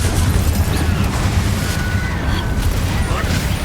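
Hogwarts Legacy combat with Confringo fire-blast spells: dense, continuous low booming rumble and crackling bursts filling the whole stretch, loud and busy with no clear gaps.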